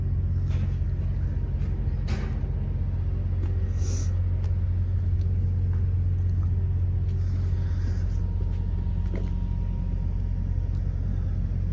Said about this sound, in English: We'll fire it up and you can hear it run and then see it drive.